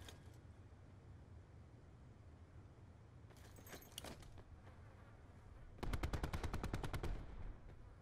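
Pistol fire in a video game shooter: a brief burst of shots around the middle, then a rapid string of about a dozen sharp, evenly spaced shots near the end, loud over a low steady background hum.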